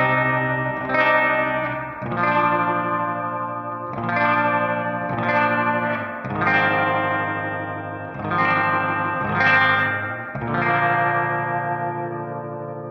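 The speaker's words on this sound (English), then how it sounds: "if you're on headphones or good speakers, there's a very nice panning effect." Guitar chords played through a Source Audio Ventris reverb pedal with stereo panning, each strum blooming into a long, shimmering wash of reverb in evenly spaced phrases of about two seconds, loud and continuous with no talking.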